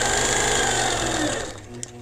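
Sewing machine stitching a 60 degree line with a straight edge ruler, a close, loud whirring hum that runs steadily, then slows and fades toward the end.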